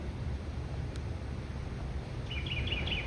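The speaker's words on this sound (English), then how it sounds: "That's a northern cardinal, as we've come to find out." A northern cardinal gives a quick run of faint, bright chirps near the end of a morning walk at Magic Kingdom, above a low, steady background hum.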